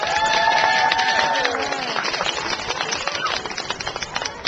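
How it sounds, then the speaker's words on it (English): An outdoor crowd at a food festival claps and cheers for a nine-year-old film critic, dense applause with voices mixed in, gradually thinning toward the end. "Please give a warm round of applause for Perry Chen"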